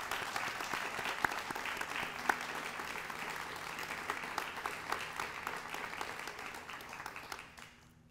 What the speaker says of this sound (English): Please give these outstanding soldiers a round of applause.